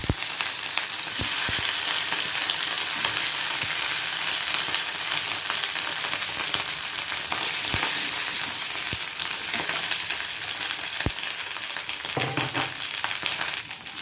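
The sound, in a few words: brinjal frying in oil in a pan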